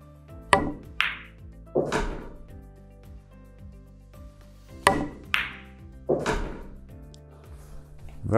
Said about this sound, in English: we have to concentrate on playing a nice and smooth stop shot